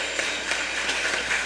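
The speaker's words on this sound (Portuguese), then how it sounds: "Aplauda mais uma vez bem forte a presença de Deus." A church congregation claps loudly during a worship service, a steady wash of applause holding at one level from start to finish with no pauses.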